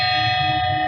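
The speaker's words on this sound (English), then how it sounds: "The bells are tolling again today at Notre Dame." Church bells ring out at Notre Dame cathedral in Paris, as a sustained, resonant tolling tone with a long ringing decay, heard alone and fairly loud.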